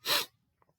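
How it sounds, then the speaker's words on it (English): One loud, close sneeze bursts out alone, followed by a couple of faint sniffs or small mouth sounds in near silence. "I'm having a sneezing attack here."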